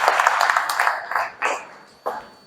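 Brief round of audience clapping that tapers off, followed by a couple of isolated loud claps.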